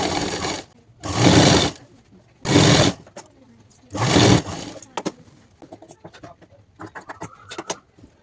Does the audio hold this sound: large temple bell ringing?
no